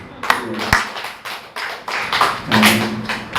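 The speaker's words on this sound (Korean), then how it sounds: "여러분에게 박수 한번 쳐주십시오" A church congregation applauds in a burst of sharp, uneven claps and taps that swell toward the end, fairly close and loud.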